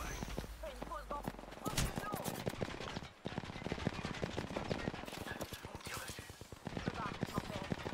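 Rapid gunfire in the Apex Legends video game, dense bursts of shots in quick rhythm, loud and continuous, with someone talking over it.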